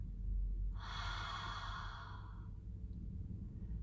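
Slow, deep exhalation during a belly-breathing relaxation exercise, one long breathy whoosh lasting about two seconds, close and fairly soft, alone without talk.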